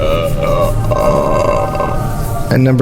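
A Canada goose belching, a low drawn-out guttural croak, close and loud, followed by a voice speaking briefly.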